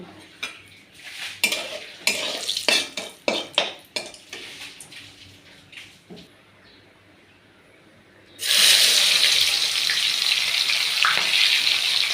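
Meat cooking in a pan: a few seconds of clinking utensils and pot knocks, then an abrupt, loud, steady sizzle that runs to the end, close by with no talking.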